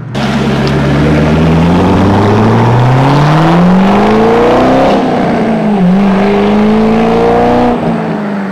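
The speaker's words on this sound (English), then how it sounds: "I don't get how they'd actually do anything to mute the exhaust note that this thing creates, because it is a monster when you open it up" Corvette V8 exhaust revved hard and loud, pitch climbing through several seconds, easing briefly, then surging again before dropping off, with no talk.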